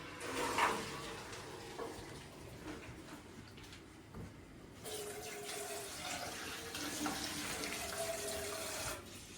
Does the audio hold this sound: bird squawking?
no